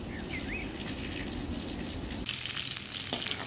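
Green chillies frying in hot oil for a vegetable dish, a steady close sizzle and crackle throughout, brightening after a brief stir partway through, with no talking.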